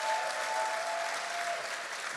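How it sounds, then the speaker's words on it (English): An audience at a presentation gives a sustained round of applause, a dense, even wash of clapping filling the room throughout. "Can I just get like a hard round of applause?"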